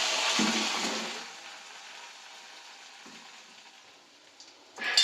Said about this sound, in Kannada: ಎಣ್ಣೆಗೆ ಹಾಕಿದ್ದಾರೆ ಗೋಬಿ.